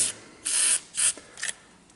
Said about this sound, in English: I'll keep spraying lube in there, try to get some lube through there